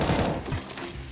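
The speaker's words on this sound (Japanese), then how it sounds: "なんか左からも銃声があった。" Bursts of gunfire in the mobile battle royale game Knives Out, a dense, loud volley of shots over about a second with no talk.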